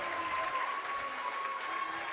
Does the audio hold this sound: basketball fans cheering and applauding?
yes